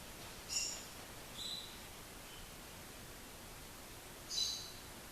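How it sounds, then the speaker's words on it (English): A pet bird calls indoors in three short, high chirping bursts spaced a few seconds apart, fairly faint over a steady background hiss. "The bird in there gets very loud, even when you have the door open."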